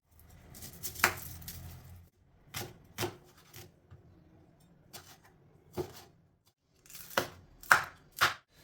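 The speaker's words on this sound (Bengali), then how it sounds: "আর টমেটো, পেঁয়াজ, ধনেপাতা আর লঙ্কা এর মধ্যে কুচিয়ে আমি এর মধ্যে দেবো" Knife chopping tomato, onion, coriander and chili on a board in a home kitchen, a series of sharp, close taps in small irregular clusters with pauses between them, some strokes louder than others.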